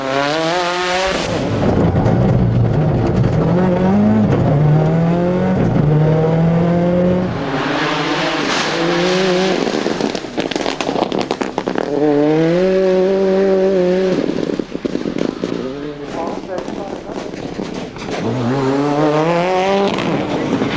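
Ford Escort Cosworth rally car racing flat out on a stage at Lurgan Park Rally 2002, loud close engine revving through repeated gear changes, with bursts of tire noise and a passing surge.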